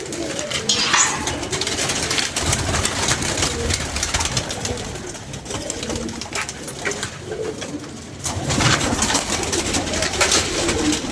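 Pigeons cooing and fluttering nearby in repeated soft calls, with wing flaps and bird chatter throughout and no voices.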